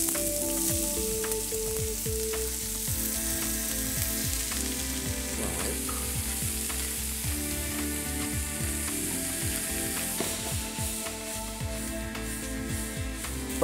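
Vegetables and carrot pan-frying in a skillet, a steady close sizzle with scattered crackles and light clicks of stirring throughout, moderately quiet and free of speech.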